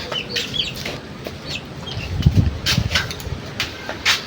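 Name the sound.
chickens clucking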